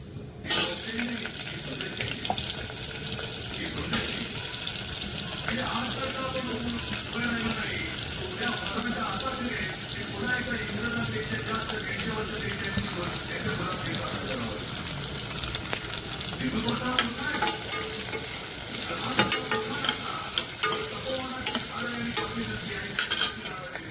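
Cumin and onion fry in a pan for a Marathi vegetable dish, giving a continuous sizzle with repeated scraping stirs throughout. Water-like hiss and clatter run underneath, and soft speech comes through faintly at times.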